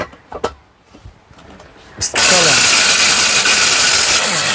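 A 1200-watt heavy-duty blender switches on after a couple of seconds of quiet talk, bursting into a loud, steady motor roar that fills the rest of the moment.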